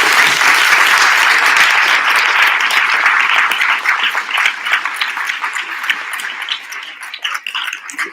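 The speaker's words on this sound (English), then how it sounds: "Let's give a round of applause." A group gives a round of applause at the close of a campsite gathering, dense loud clapping that holds steady and then thins out and fades toward the end.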